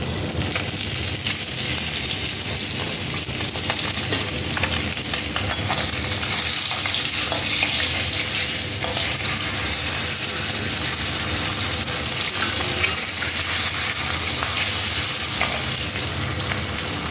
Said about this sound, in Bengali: মাথাগুলো এরকম লাল লাল করে ভাজা হয়ে গেছে।